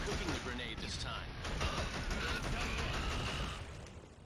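Dense gunfire from the Killzone video game forms a sustained, rumbling barrage of overlapping shots at moderate level that fades slightly toward the end.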